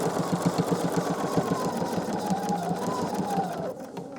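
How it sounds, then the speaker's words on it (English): A sewing machine stitches steadily through quilt batting and joined quilt-as-you-go blocks, a fast, even mechanical chatter up close that runs continuously and eases slightly near the end. "I'm going to sew right through the batting and through the blocks"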